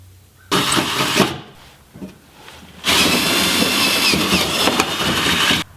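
A power drill with a small bit whines in two bursts while drilling holes to install motorcycle crash sliders, a short one and then a longer steady run, with a brief pause and small clunks between.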